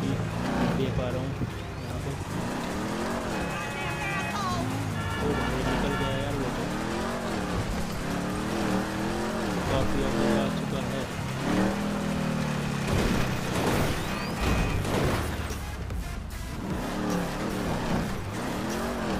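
GTA 5 cars race at full speed in a drag race, with engines revving and whining up and down in repeated sweeps, tires squealing, and excited talk running over the loud, close engine noise throughout.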